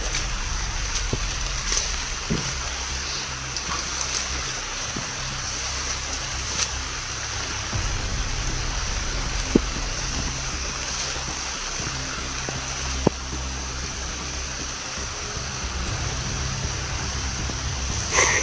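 Steady, dense rain patter fills the background with occasional drips and taps, constant and fairly loud throughout.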